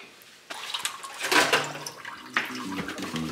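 Coolant drains from a BMW E30 radiator onto a garage floor, a splashing, gurgling pour of liquid that surges loudly then settles into a steadier trickle with occasional bursts.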